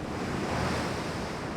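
Calm sea waves in the naval video game Ultimate Admiral: Dreadnoughts, a soft, steady wash of surf and wind noise with no distinct breaks, heard alone at low level.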